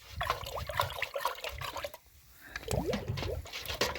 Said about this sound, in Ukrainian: Розмішуємо її у відрові нашому